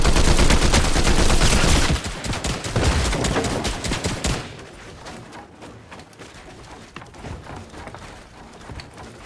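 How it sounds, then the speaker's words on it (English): Rapid bursts of game gunfire crackle loudly for a few seconds, then fade to quieter scattered shots and faint distant firing. "I hear some gunfire."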